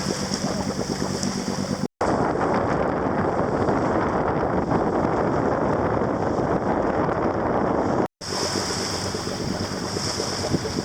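A steady, continuous sailboat engine drone with wind and water noise throughout, broken by two brief moments of silence.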